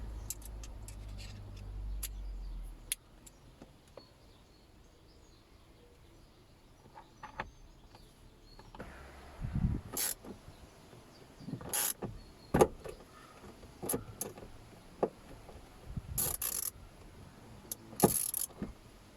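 T20 Torx screws being driven into interior trim of a ZX car, with scattered close clicks, small metallic ticks and rattles of the screwdriver and tools, then brief handling sounds, fairly quiet inside the cabin.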